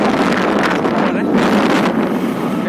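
A light breeze blows across an open rural spot in Assam, buffeting the microphone with a continuous low, rumbling wind roar that swells and eases slightly.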